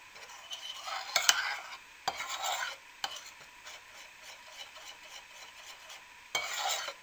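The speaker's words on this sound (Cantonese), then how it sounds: "然後攪勻佢啦" Chocolate cake batter mixed with orange liqueur is stirred in a bowl, soft scraping and swishing strokes in uneven bursts, close and quiet with no talking.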